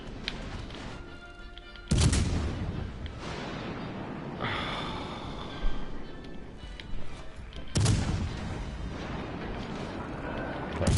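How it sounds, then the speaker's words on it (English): Naval gunfire in World of Warships pounds a battleship under heavy incoming fire. Several booming impacts and blasts land over a constant roar of engine and sea noise, with sharp hits near the start, middle and end. "trying to dodge incoming fire when you're driving towards an enemy battleship"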